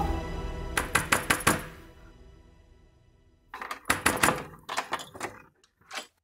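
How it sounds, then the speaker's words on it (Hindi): A door in a house rattles with two clusters of quick, hard knocks or thumps, close and sharp, with a quiet pause between them and a last single thud. "दरवाजा खोलो।"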